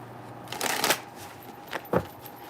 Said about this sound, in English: this might need a little bit more of an intense shuffling